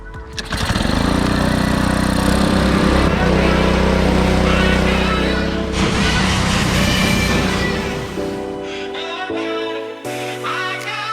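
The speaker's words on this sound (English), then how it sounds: "we're just going to hit the whole thing with a pressure washer, pretty much just clean everything off" A pressure washer blasts a pontoon boat clean, its motor drone steady and loud throughout, with a continuous hiss of the spray over a low engine hum that dips briefly near the end.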